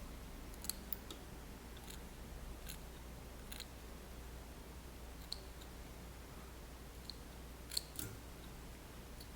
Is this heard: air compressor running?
no